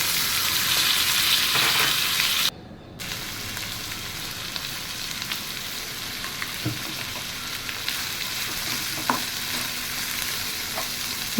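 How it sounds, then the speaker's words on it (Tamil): Cluster beans with curry leaves and salt being stirred in a pan, a continuous close sizzle broken by a brief drop near the start, with scattered clinks of a spoon against the metal. "கொத்தவரங்காயும் சேர்த்து உப்பு தேவையான அளவு போட்டு நல்லா கலந்து விட்டுக்கோங்க"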